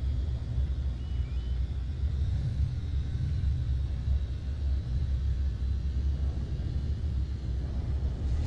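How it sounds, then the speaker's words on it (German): Storm on a planet in No Man's Sky: a continuous low rumble with wind-like roar, steady and loud throughout, no speech. "Wir sind auch gerade im Sturm"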